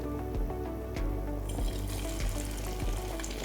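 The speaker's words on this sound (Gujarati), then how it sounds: "હવે હું ફ્રાય કરું છું." Spicy churros fry in oil over a medium flame, giving a loud, continuous crackling sizzle punctuated by a series of soft low thumps.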